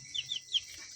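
Young kampung chicks, roughly two to three weeks old, give three quick, faint high peeps in a row, followed by a brief quiet stretch.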